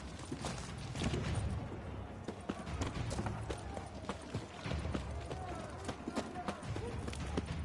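Horse hooves clip-clop in a medieval-style video game, an irregular run of fairly close hoof strikes heard under some background voices and game noise.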